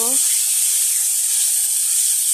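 Ingredients with garlic, onion and ground spice paste poured into a hot kadai, giving a loud, steady broad sizzle that holds unbroken for a couple of seconds after a brief voice at the start.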